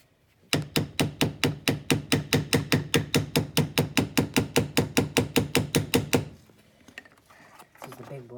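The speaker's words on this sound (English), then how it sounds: "This is the big boy, the Super Mario Smash Brothers hammer." A hammer strikes metal in a fast, steady series of about thirty sharp, loud blows on a wheel bearing from a 2004-2008 Cadillac SRX, then stops, leaving faint clatter.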